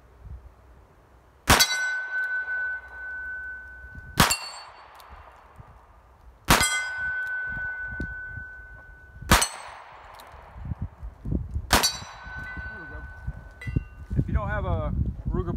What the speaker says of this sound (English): let's see if we can put it on some steel plates.